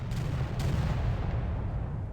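Warship gunfire in the naval video game Victory At Sea Atlantic, a dense low rumbling boom that rolls continuously and heavily for a couple of seconds.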